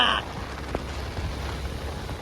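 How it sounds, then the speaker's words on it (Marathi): Rain falls steadily in a soft, constant patter, with a low rumble underneath and one brief knock partway through. "पाऊसच पाऊस पाऊस आला रे"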